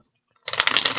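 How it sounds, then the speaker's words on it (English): Tarot cards being shuffled, a brief burst of crisp riffling and flapping that starts abruptly after a moment of silence and stays close and fairly loud. "One more shuffle."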